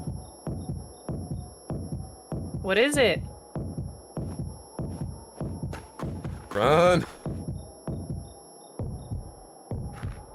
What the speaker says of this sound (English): the heartbeat that you guys are hearing Wait, in the game is like in the controller